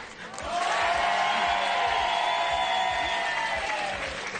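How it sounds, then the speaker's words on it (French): Sustained applause from a French TV game show studio audience, swelling up after a moment and holding steady and loud, with a few scattered voices in the mix. "Applaudissements plus forts."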